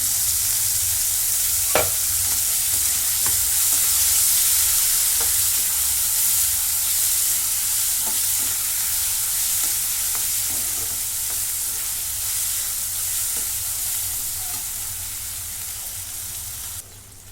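Chopped onion and tomato sizzle steadily in hot oil in a pan, with a spoon scraping and stirring now and then, sharp clicks dotting the continuous frying hiss.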